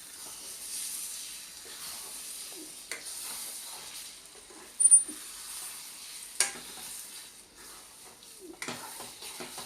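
Tender tamarind leaves and egg are fried in a pan, giving a soft steady sizzle with occasional scrapes and taps as a spatula stirs the mixture close by.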